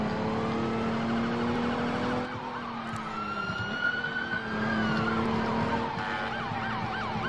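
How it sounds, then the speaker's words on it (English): Wailing emergency sirens from fire trucks in the Roblox game Emergency Response: Liberty County, several overlapping tones sweeping up and down continuously, loud and close, with engine rumble underneath. "There's more fire trucks."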